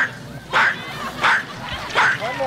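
A human voice imitates a chihuahua, giving three short high yappy barks with pauses between, close and clear.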